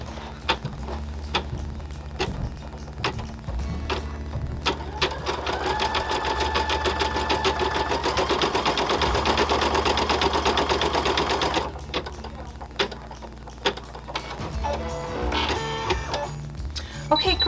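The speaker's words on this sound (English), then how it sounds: "put it back in the machine, and stitch our last closure." An embroidery sewing machine stitches felt with a rapid, steady mechanical chatter that swells louder in the middle, then drops to intermittent clicks and softer stitching near the end.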